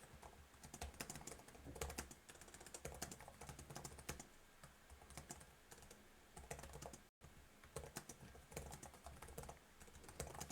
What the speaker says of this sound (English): I'll do a quick typing test here.